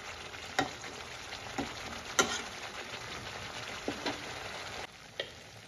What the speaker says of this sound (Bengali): এখানে আমি ফ্রাই করে নেব টমেটোটাকে